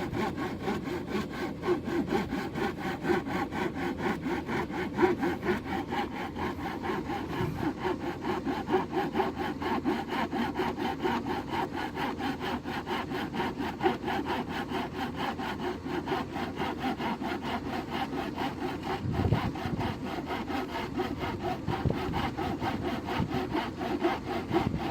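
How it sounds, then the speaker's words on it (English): Steady back-and-forth strokes of a hand saw cutting through small pieces of wood, close and continuous for the whole stretch with an even rasping rhythm and no talk. "So I sit here and hand cut it so I get a nice clean cut."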